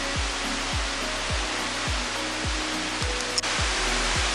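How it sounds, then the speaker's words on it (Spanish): Waterfall at Aconco falls in Tetela de Ocampo, Puebla, Mexico: a loud, constant broadband roar of falling water, with a steady rhythm of soft low thumps beneath it and one brief sharp knock. "Impresionante la cascada."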